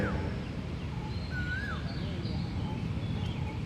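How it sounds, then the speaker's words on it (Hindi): Birds chirping and calling in short whistled notes during a yoga meditation session, fairly faint, over a low steady background rumble outdoors. "इन चिड़ियों की आवाज को महसूस करें।"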